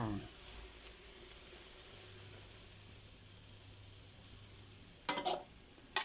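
Pineapple sizzles and stir-fries in a pan for a vegetarian dish, with a steady frying hiss throughout. Near the end come a few brief louder clatters of stirring.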